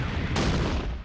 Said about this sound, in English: enemy infantry units have responded with fire